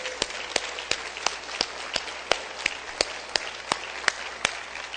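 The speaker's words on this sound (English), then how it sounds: "give yourselves, your CTA managers and staff, a huge round of applause" A sparse round of applause for transit agency managers and staff, sharp individual claps in an irregular rhythm, fairly quiet and distant over a low room hum.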